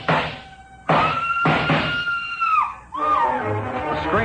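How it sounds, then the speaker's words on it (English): A woman screams in a radio detective drama, shrill and frenzied, in several long rising and falling cries with brief breaks, loud and up close, with no talk over it. "The scream filled the house"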